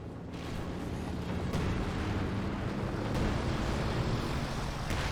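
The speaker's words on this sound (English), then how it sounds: "there's a heavy mortar barrage there from the assault officer" Heavy mortar barrage from an assault officer in Company of Heroes 2, a dense, sustained rumble of distant blasts with a few sharper impacts, loud and steady throughout with no voices.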